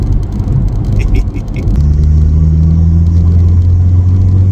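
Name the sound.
Volkswagen Passat PD150 engine revving, turbo spooling up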